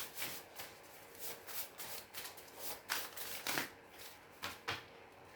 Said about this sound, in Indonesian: kita akan ambil dari kartu